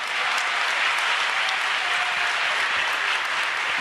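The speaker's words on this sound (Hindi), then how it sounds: "एक बार जोरदार ताली बजाओ आप सब।" Loud, dense clapping from a large crowd at a religious gathering, sustained and uniform from start to finish without pause.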